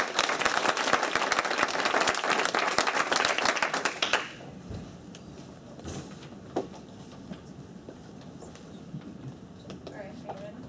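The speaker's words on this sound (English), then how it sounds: "I'd like to give them all a round of applause for their support" Attendees at a team meeting give a round of applause, a burst of many hands clapping for about four seconds that stops abruptly, followed by quiet room noise with scattered small sounds and faint voices.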